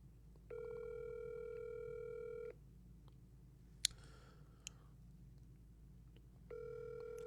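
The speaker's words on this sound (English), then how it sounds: "I'm about to call his phone." Outgoing phone call ringing out, with a steady electronic ringback tone lasting two seconds, a long pause with a couple of faint clicks, then the tone starting again.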